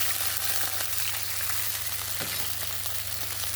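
Water hitting a pan of ginger and green chillies frying in oil, producing a loud, steady hiss and sizzle that holds unbroken, with a brief stir or clink midway.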